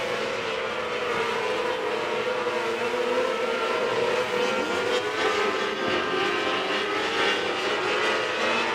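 Outlaw micro sprint race cars circling a dirt oval at Southern Illinois Raceway, a loud, dense roar of several engines overlapping with rising and falling whines as they pass, continuous throughout with no speech.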